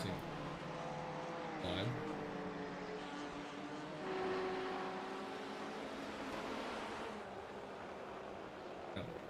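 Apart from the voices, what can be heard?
race cars (BMW, Porsche, Ford) at Sebring, sim racing video game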